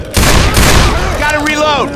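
Gunfire in the zombie shooter game Left 4 Dead 2, a loud burst of rapid shots in close succession followed by ringing tones, with game voices over it.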